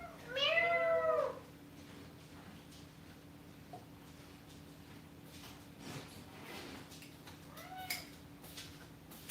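A cat gives a loud, close meow at the start and a softer second meow later, with quiet indoor room tone in between.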